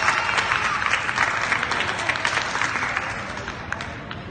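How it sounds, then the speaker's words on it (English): Steady applause from a sizable crowd at a 4-H county fair dairy goat show, a dense wash of clapping that gradually softens toward the end. "Let's give these guys all a big round of applause for a job well done."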